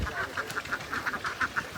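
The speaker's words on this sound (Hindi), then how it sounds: "असद ने यहाँ पे बतखें भी न्यू ला के रखी हैं।" Ducks quacking repeatedly in a steady series of short, nasal calls, fairly close and clear, with no voices over them.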